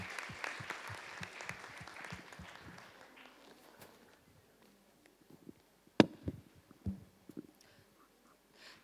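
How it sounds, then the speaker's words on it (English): An audience at a women's leadership summit applauds Shaili Chopra with moderate, fairly distant clapping that fades out within a few seconds, leaving near-silence broken by scattered soft footsteps and thumps. "can we have a big round of applause for Shaili Chopra?"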